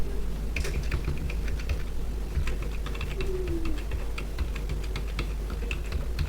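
A password typed on a computer keyboard: steady, rapid key clicks running continuously for several seconds, close and clear with no talking.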